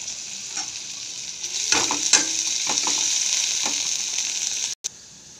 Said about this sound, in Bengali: চোখা বানানোর জন্য তেল গরম করে পেঁয়াজ আর রসুন দিয়ে দেবো।